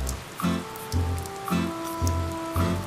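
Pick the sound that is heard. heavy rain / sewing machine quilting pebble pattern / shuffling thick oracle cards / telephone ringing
heavy rain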